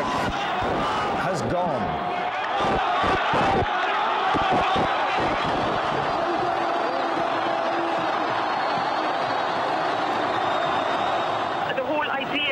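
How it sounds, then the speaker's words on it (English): An Egyptian crowd roars as Mubarak's resignation is announced, a dense, loud wall of cheering and shouting with sharp claps and bangs, while a voice speaks over it. "Listen to that crowd"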